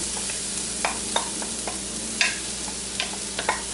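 Onions sauté in oil in a pan, giving a constant moderate sizzle punctuated by occasional soft scrapes and taps of stirring, with no talking.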